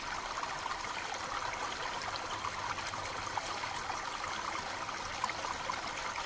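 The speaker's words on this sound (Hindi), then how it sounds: "पता नहीं कहाँ से वो झरना बहता हुआ आ रहा है" Steady rushing water from a waterfall near Pari Taal lake, Nainital, a continuous broadband wash, fairly distant and unbroken throughout.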